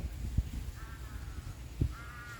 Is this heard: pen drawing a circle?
no